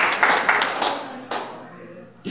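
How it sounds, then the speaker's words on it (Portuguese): A church congregation claps together during a sermon service, a dense burst of hand claps that fades over a couple of seconds, with voices audible underneath. "Para aplaudir, amém?"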